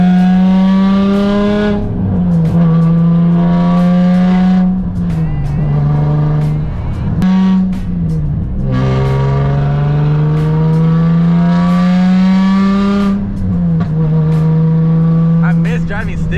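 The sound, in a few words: straight-piped Nissan 350Z engine and exhaust while driving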